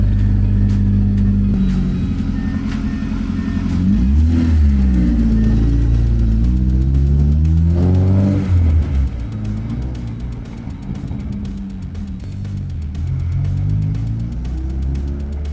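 A Honda CRX with a swapped K20 engine drives close by, its loud engine rising and falling through several revs and gear changes, then settling into a steadier drone with no voices over it.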